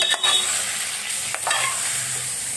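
Soaked, washed rice with whole spices stirred in a pot with a wooden spoon, a steady loud hiss of hot liquid with a few soft scraping strokes, close up and without speech.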